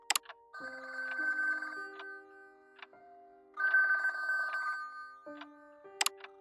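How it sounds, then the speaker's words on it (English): An old-style telephone rings in two long trilling bursts separated by a pause, with soft clicks and tones at the start and end. "Ringing the police department."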